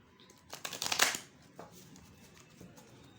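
Tarot cards being shuffled, a brief close riffling burst that swells and stops within about a second, followed by a few softer card slides and rustles in a quiet room, with no voices.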